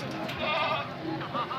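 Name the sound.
goats bleating at a goat market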